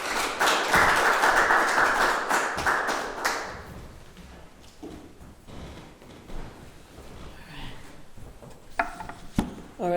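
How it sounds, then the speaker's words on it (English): Audience applause at a poetry reading: a dense burst of clapping that lasts about three seconds, then quickly fades into scattered taps and quiet room noise. "Come on, Carmen, big round of applause"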